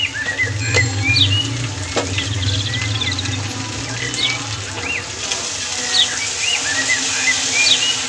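Pointed gourd peel stir-fried with turmeric in a pan, a steady close sizzle with scraping stirs, while birds chirp repeatedly in the background.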